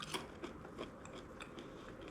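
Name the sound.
biting and chewing homemade dried banana chips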